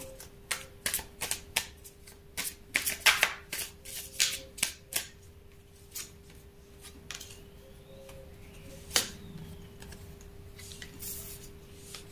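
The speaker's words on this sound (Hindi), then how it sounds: "ये मैं आपके लिए कार्ड निकाल रही हूं" Tarot cards are shuffled and drawn in a quick run of crisp snapping and flicking bursts, close and fairly loud, that thin out to a few sparse slaps and rustles toward the end.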